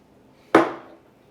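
A lid drops into the water-filled moat of a sauerkraut fermentation jar with a single sharp, close clunk and a brief ringing ceramic decay, alone in an otherwise quiet room.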